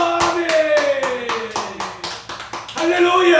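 A congregation at a Korean revival service claps in rhythmic, sharp beats under a voice. Sustained tones run through it as the claps repeat steadily and pause briefly before resuming.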